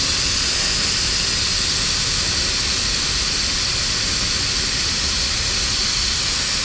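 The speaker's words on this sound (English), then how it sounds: "The reason I use this 3/8 valve and this Y connector here is so that it lets out more air." Air rushing out of a 4WD tire through a homemade deflator with a 3/8 valve and Y connector, a loud, constant, close hiss that never lets up.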